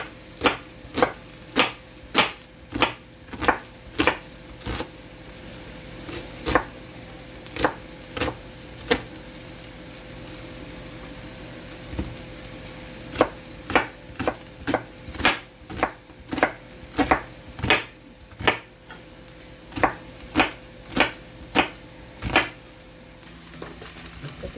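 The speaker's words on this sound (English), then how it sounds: "I still have to chop the onions." Knife chopping onions on a cutting board for skirt steak fajitas, a run of sharp, quick taps in uneven bursts with short pauses, close and clear over a faint sizzle of food frying in a pan.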